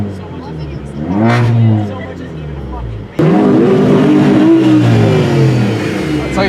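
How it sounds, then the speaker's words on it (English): Car with a muffler delete and straight pipe at a car meet, its engine revving in rising and falling bursts, then a louder, sustained rev after an abrupt jump in level, close and loud. "that shit sounds sexy when he revs it up"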